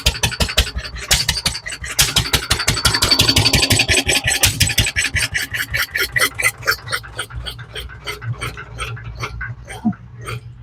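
An old single-cylinder hit-and-miss stationary engine chugs steadily with rapid, regular firing beats, slowing somewhat toward the end, close by and fairly loud.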